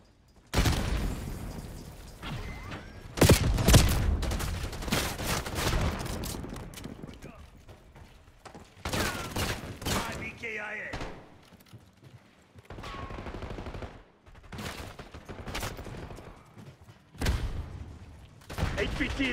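Bursts of automatic gunfire and explosions from Call of Duty Black Ops 6 on PS5 come in repeated loud volleys separated by short lulls, with voices talking between and over the shots.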